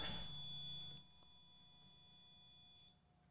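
A faint, steady high-pitched electronic tone from a REM pod ghost detector sounds in a quiet room, then weakens.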